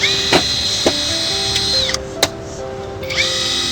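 A cheap power drill, switched to impact mode for screws, whirs with a steady motor whine broken by several sharp clicks and clunks as the setting changes, loud and close.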